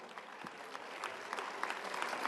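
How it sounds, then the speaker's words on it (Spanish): A crowd claps steadily through a municipal World Water Day ceremony, welcoming the town council secretary. The applause is a dense, even patter that holds at a moderate level from start to finish, with no voices over it. "a quien pido lo que recibamos con un fuerte aplauso"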